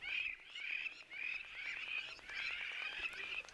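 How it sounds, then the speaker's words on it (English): Birds sing faintly over open countryside on a calm day, with lapwings, crows and swallows around; thin, repeated high calls run in an unbroken chain from start to finish, with no voices. "listening to all of the beautiful birds, the lapwings, the crows, the swallows"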